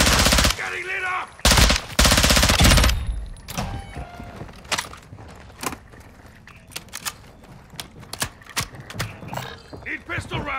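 Call of Duty DMZ gunfire hits hard at first with long, loud automatic bursts, then scattered single shots pop near and far. Voices talk underneath.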